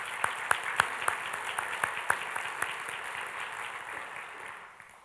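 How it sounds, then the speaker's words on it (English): Workplace staff meeting applause for the team behind a steam shutdown, with several individual claps standing out sharply at first, then settling into a softer, thinning patter that fades toward the end. "So if I can just get a round of applause for everyone that was involved with the steam shutdown"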